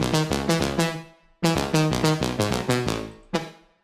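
Layered future trance synth leads, widened with EQ, reverb and a stereo shaper, play bright stacked chord stabs in a bouncy rhythm, two phrases separated by a short gap, with a last stab ringing out at the end.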